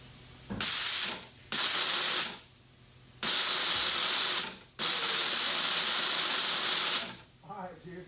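Nitrous oxide purging from the line of a small block Ford powered Mustang's nitrous system: four loud, close bursts of hissing gas, each sharp at onset and tapering off, with short pauses between, then quiet murmuring voices at the end.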